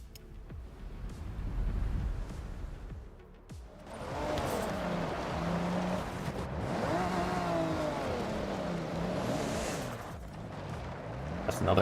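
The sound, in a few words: Toyota Supra driving on dirt road in Forza Horizon video game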